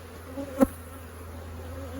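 Honey bees swarm around an opened hive, a dense, steady buzzing close by, with one bee briefly passing louder near the start.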